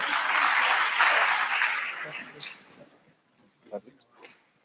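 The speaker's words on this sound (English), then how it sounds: "A hearty round of applause." An audience at a mentorship certificate ceremony gives a hearty round of applause. The clapping is loud and sustained for about two seconds, then fades, leaving a few scattered claps and faint sounds.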